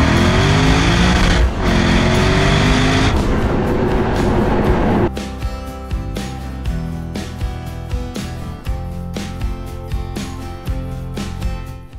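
A bright yellow Lexus RC F drives past with a loud, dense engine roar for several seconds before the sound drops away beneath steady background music.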